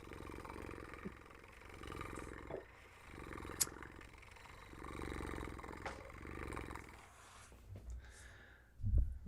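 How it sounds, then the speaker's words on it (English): A cat purrs quietly in a steady, rhythmic cycle of low rumbling pulses that rise and fall about every second and a half, with a brief louder thump near the end. "let me get the purr out of the way"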